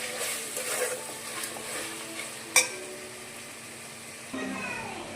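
A spoon scrapes and stirs through a salted chicken biryani mixture in a cooking pot, a soft continuous sizzle underneath with one sharp metallic clink midway.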